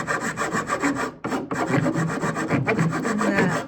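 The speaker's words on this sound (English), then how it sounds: "I also have a little file that I can go in there and kind of get that shape a little more specific" A small hand file rasps across a piece of wooden kitchen furniture being repaired, with steady back-and-forth strokes close up and a brief pause midway.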